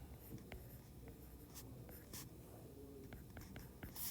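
Handwriting on paper while working through a logarithm problem, quiet close scratching pen strokes in short irregular bursts with small taps, no talking.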